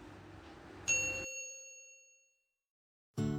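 A single bright electronic ding rings out and fades away, followed by a brief burst of another sound at the end.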